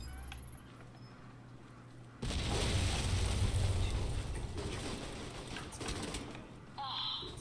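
A sudden loud, rumbling roar bursts in and sustains for several seconds, a heavy explosion in the video game Alpha Protocol, then fades into quieter electronic effects.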